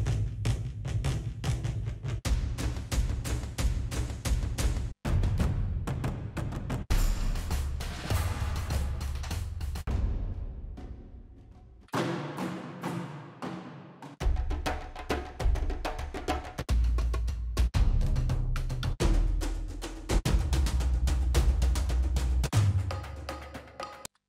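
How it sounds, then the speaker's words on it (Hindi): Orchestral drum loop sample in FL Studio, heavy rhythmic percussion hits in a steady loop that drops out briefly midway, then resumes loud and full. "यहाँ पे आप देख सकते हो ऑर्केस्ट्रल ड्रम लूप्स, इसको सुनते हैं"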